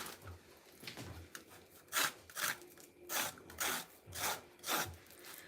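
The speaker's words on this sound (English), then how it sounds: "So I'm going to scrape that again." Thick Nigerian plantain porridge being scraped from a cooking pot, about eight rhythmic rasping strokes, close and fairly quiet, with no voices.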